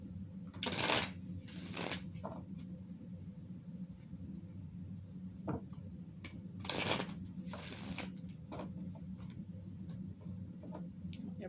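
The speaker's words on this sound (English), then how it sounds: "So now I'm going to go ahead and shuffle these cards" Tarot cards are shuffled by hand indoors, giving a few distinct rustling, riffling bursts separated by quieter pauses and soft light taps, with no voices.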